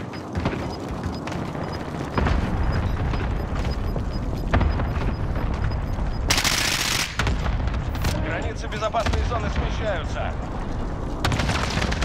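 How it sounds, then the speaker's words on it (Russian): Gunfire in the video game Call of Duty: Modern Warfare, with dense, loud bursts of shots and blasts that run almost continuously, mixed under a player's excited talking. "По нам стреляют."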